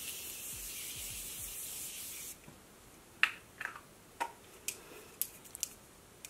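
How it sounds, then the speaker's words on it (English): A hissing spray runs steadily for a couple of seconds, then stops, followed by a few light scattered taps and clicks nearby. "I'm just gonna spray real quick."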